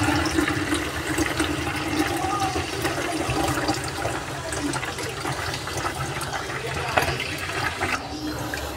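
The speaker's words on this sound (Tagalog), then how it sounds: "nilalagay ko lang sa lagadera yung tubig" Water pours steadily into a watering can beside a house, a continuous splashing, filling rush that runs unbroken throughout without a hose.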